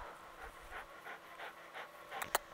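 A dog panting outdoors on a hot day, close and fairly soft, quick rhythmic breaths in a steady series ending with a sharp bright click.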